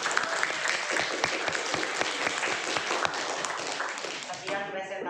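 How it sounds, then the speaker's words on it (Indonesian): Students in a classroom applaud a group presentation, a burst of quick, close hand claps that thins out near the end as talk and a voice come through. "Tepuk tangan untuk kelompok 3."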